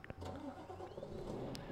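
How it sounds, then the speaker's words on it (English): A heavy truck engine cranks and rumbles to life in the game Euro Truck Simulator, settling into a steady low idle with a synthetic quality. "Now let's start the engine."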